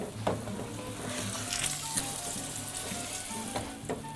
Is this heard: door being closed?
no